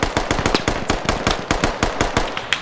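Rapid machine-gun covering fire from the military shooter game Squad, an unbroken string of about fifteen sharp, loud, evenly spaced shots with no talking.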